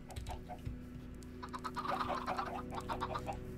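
Chickens clucking in a Pirates Cove modpack game, a busy cluster of short clucks and chatter over a steady low mechanical hum.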